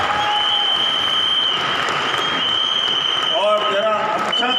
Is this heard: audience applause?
yes